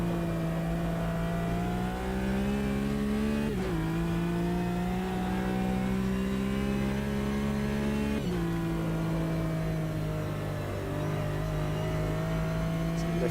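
A Porsche race car engine in Automobilista 2 at Bathurst drones steadily at high revs, its pitch dipping sharply twice at gear changes before climbing again, loud and continuous with no talk.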